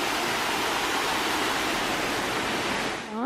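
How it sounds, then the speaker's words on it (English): Small waterfall in Lescar pouring steadily with a dense, constant rushing hiss that stays loud and even, followed by a brief rising tonal sound at the very end. "This is a nice little waterfall."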